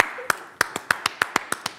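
Sharp, evenly spaced hand claps ring out one after another in a lively rhythm, a short burst of audience applause for a guest on a Spanish television talk show.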